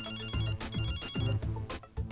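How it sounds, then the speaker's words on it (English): A phone ringtone plays loudly as a bright repeating electronic melody with a steady pulsing rhythm, close and clear, with no talking. "He gets the phone call."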